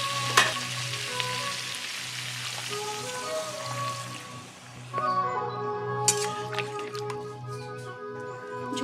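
Eggs fry for egg chili as water goes into the pan, giving a steady close sizzle that shifts and bubbles partway through, with soft tonal background music throughout.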